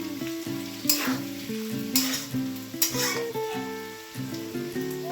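Potatoes and scrambled egg fry in a pan with a soft, continuous sizzle and occasional stirring scrapes, all under louder background music.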